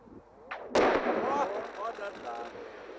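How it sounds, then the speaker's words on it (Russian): A blast breaking up river ice on the Kinel in Samara region ahead of the spring flood: a sharp, loud single explosion followed by a rumbling, rolling decay and scattered debris sounds lasting a couple of seconds. "Это первый взрыв, прозвучавший на водоемах Самарской области в преддверии паводка 2012 года."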